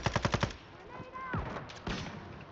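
Gunfire in the video game Call of Duty Warzone: a rapid burst of five loud, close automatic shots opens the sequence, followed by a few scattered, softer shots amid game noise.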